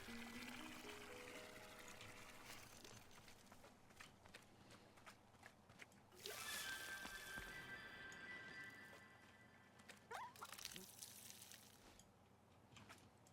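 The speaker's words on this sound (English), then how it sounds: "Fill the water with a watering can and pour it into the new egg." Water poured from a watering can onto a plant egg in the cozy game Wanderstop, a soft, faint, steady splashing stream over gentle background music.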